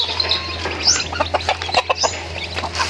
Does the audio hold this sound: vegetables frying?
no